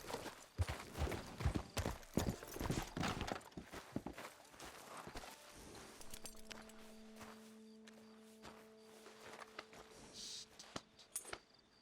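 Rhythmic clip-clop of horse hooves in Red Dead Redemption 2 Online, brisk and close at first, then slowing and fading as a steady tonal hum comes in.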